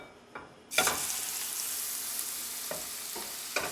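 A New York strip steak hits a hot, olive-oiled pan and bursts into a loud, steady sizzle that carries on without a break, with a few small clatters along the way.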